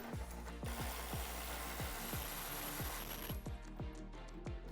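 Repeated metallic ratcheting clicks of a wrench working a top bolt on a Jeep Wrangler JL sway bar link, steady and close, about a dozen strokes in a regular rhythm.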